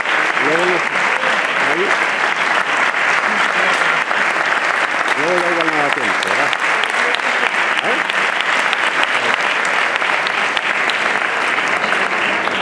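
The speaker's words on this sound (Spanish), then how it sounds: "Un fuerte aplauso" An audience at a 30th-anniversary tribute event for a musical association in Utrera applauds loudly and steadily, with a brief voice rising over the clapping now and then.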